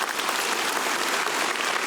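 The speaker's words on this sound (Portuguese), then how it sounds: "vamos aplaudir a Jesus" A church congregation applauds during a service in a dense, continuous wash of clapping at moderate loudness, with no voices heard.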